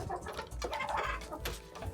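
A turkey clucks softly on a snowy farm, a few short low clucks and rustling calls at a distance, faint against background noise.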